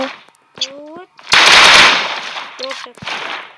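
Loud bursts of automatic gunfire from a drop shot in a shooter video game ring out in a short, dense volley, with voices and game effects around it.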